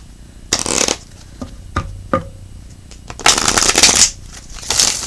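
Cards of a Moonology oracle deck being shuffled by hand, with several bursts of riffling and sliding separated by short pauses, plus a few soft taps; close and fairly loud, with no talking.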